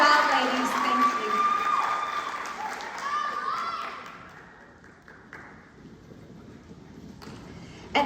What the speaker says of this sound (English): Let's give all of these young ladies a big round of applause.